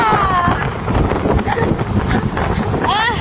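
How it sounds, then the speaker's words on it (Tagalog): Strong wind buffets the microphone in a heavy, continuous roar with gusty surges, while faint voices and a brief whistle-like tone come through at the start and end. "Grabe ang hangin guys."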